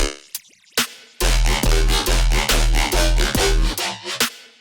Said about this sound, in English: Start with the drum loop here.